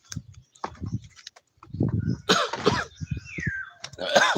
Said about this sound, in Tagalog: Grabe, ubo ko.